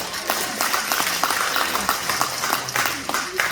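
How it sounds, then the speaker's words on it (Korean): Audience applause at a public lecture or gathering, dense and continuous clapping of a crowd at steady moderate loudness, with no clear speech over it. "다시 한번 큰 박수로"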